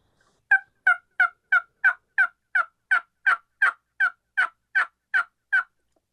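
Turkey diaphragm call played by a hunter, giving a steady series of about fifteen raspy yelps in even rhythm, close and loud against silence, mimicking a hen turkey.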